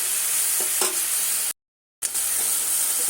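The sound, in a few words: cumin, chili, ginger spice paste frying in pan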